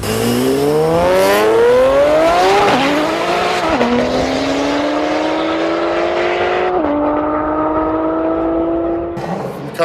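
A 2007 Cadillac CTS-V race car with a twin turbo setup accelerates hard at an airstrip, its loud engine note climbing through several gear changes with tire squeal, staying close and dominant before easing off near the end.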